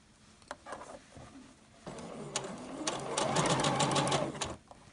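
Domestic sewing machine stitching a neckband onto a sweatshirt in a kitchen, short bursts of rapid mechanical whirring that build into a longer continuous run before stopping, fairly close and moderate in level.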